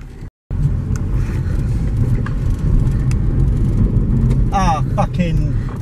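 A Honda Accord fitted with a Type R engine pulls hard, heard from inside as a loud, continuous roaring rumble that holds steady for several seconds.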